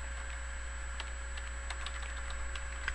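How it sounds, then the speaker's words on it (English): Quiet keystrokes on a computer keyboard, a few scattered light taps over a steady electronic hum and whine, close and faint, with no talking. "When you open it up, you're going to type in CUDAMiner.exe."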